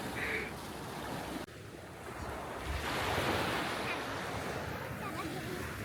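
Ocean waves wash onto a beach in a steady broad roar, swelling midway, with wind buffeting the microphone and faint voices in the background.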